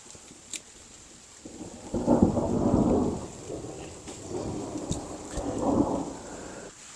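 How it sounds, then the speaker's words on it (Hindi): Light drizzle falling outdoors by a mountain cave, with low rumbling thunder rolling in two long swells that rise and fade, a faint pattering of rain underneath and no talk. "बूंदाबांदी हो रही है।"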